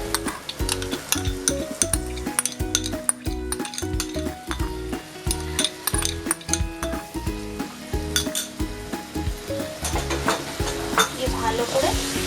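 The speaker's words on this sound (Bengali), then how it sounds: "ভালো করে নাড়াচাড়া করে নিতে হবে।" Doi bhetki (bhetki fish) with curd sizzles in a pan while a utensil scrapes and clinks in steady repeated stirring strokes, close and fairly quiet.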